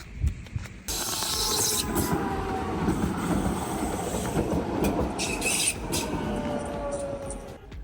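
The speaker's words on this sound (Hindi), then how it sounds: "अभी ये एक रेलवे क्रॉसिंग आया है. लेट्स सी, ट्रेन देख के जाते हैं अब यहाँ पे" A train rolls past a railway crossing in Switzerland, steady and loud at close range, with clattering wheels and metallic squeals throughout and no talking.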